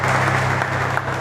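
A church congregation claps together in a steady, dense burst of applause that fills the whole brief moment.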